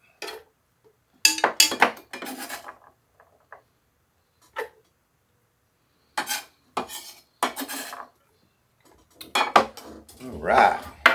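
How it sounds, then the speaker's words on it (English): Chopped potatoes dropped into a soup pot for chicken and potato soup, a series of separate hard clunks and clatters of chunks hitting metal, spaced with quiet gaps and a final busier burst. "let's get those in the pot."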